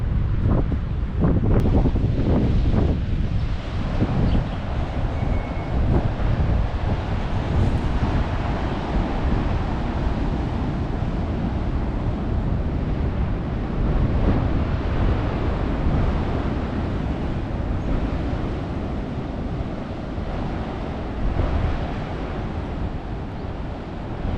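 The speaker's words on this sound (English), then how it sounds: "Let me show you guys the waves." Ocean waves break on the rocks at Apollo Bay in a strong gale. Loud, continuous wind buffets the microphone over a low, rolling roar of surf, with no talking.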